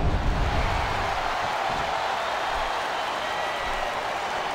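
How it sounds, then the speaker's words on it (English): A large crowd in the wrestling video game WWE SmackDown! vs. RAW 2006 roars continuously in a dense, steady wash of noise, a chant-like swell filling the whole arena without pause. "Wow, listen to that chant, Taz."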